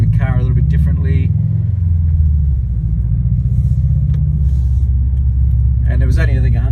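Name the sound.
Invidia R400 cat-back exhaust on 2017 Subaru WRX STI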